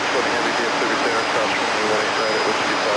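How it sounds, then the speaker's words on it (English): A UPS MD-11 jet at DFW Airport gives off a steady, loud, broadband roar that holds at an even level for the whole stretch without letup. "Got to savor these MD-11 views while we can."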